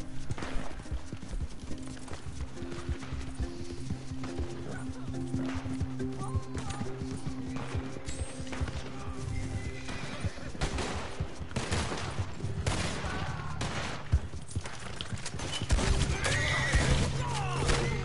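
Horse hooves clip-clop steadily alongside repeated neighs and whinnies in Red Dead Redemption 2 online, with bursts of gunfire and a dense game soundtrack layered throughout.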